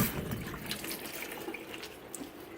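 Warm water running from a kitchen tap into a sink, a quiet steady trickling stream with faint splashing, continuous and close throughout.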